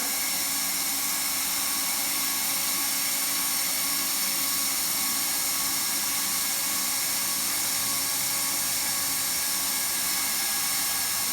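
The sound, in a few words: hot air welding gun welding vinyl sheet flooring seam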